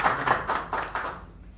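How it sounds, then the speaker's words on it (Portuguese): A small group claps by hand at an official pronouncement, a brief, close patter of a few distinct slaps that thins out and fades within a couple of seconds. "E a gente reconhece através das nossas humildes palmas ao nosso doutor Rodrigo Manjabosco."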